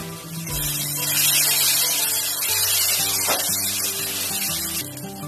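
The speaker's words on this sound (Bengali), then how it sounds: "মশলা ধোয়া জল দিয়ে দিচ্ছি।" Water used to rinse ground spices pours into a bhetki fish curry with mustard and cumin paste, giving a steady, close bubbling and sizzling hiss that runs through the whole moment without a break.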